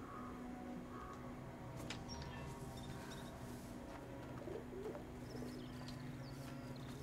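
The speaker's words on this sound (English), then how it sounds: "Sounds like pigeons are going to snitch on me." Pigeons coo softly in the video game A Plague Tale: Innocence, low murmuring calls over a quiet ambient bed with occasional faint chirps and rustles.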